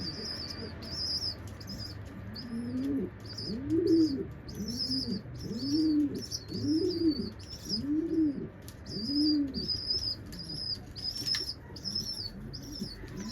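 Budapest pigeons and their grown young in a coop, a nearby pigeon cooing in a repeated rhythmic series with soft chirps and occasional wing flutters throughout.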